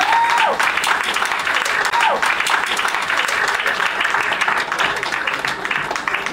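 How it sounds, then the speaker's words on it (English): A crowd at a Mrs Chennai pageant applauds the third-place contestant: steady, dense clapping fills the whole stretch at close range, with a few brief whoops rising above it. "A big round of applause to you."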